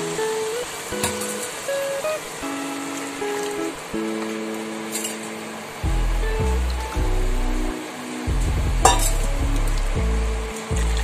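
Hot water is poured into a pot of sizzling pulao rice being made as sweet yellow basanti pulao, a loud splashing pour over hissing sizzle, with musical tones playing underneath.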